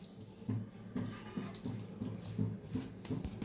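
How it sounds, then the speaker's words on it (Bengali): Black cumin, chilli powder, turmeric and salt are mixed with water in a bowl, giving faint, rhythmic watery swishes and soft sloshing pulses. "এটা আমি জল দিয়ে গুলে নেব।"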